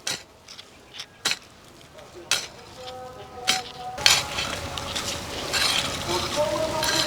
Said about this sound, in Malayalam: അതിനകത്ത് നല്ലൊരു തടം ഞാനങ്ങ് എടുക്കാൻ പോവാം.